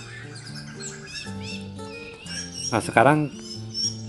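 A caged songbird chirps and warbles in quick, bright phrases close by, while someone talks over it throughout.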